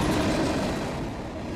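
A northbound freight train of empty tank cars rumbles past nearby, a brief low, rolling roar of heavy wheels and cars that fades slightly toward the end.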